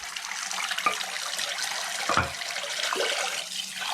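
Warm water runs steadily from a tap with a continuous splashing hiss, close by and fairly loud, without talk.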